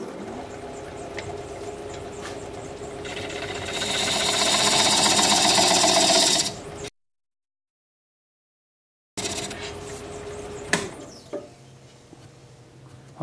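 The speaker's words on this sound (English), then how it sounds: "I'm going to switch to a sweatback gouge to create a dovetail on this tenon." A wood lathe spins a piece while a swept-back gouge cuts a dovetail on the tenon, giving a steady mechanical hum that grows into a loud, rough scraping whir, breaks off into silence, then returns more quietly with a sharp knock.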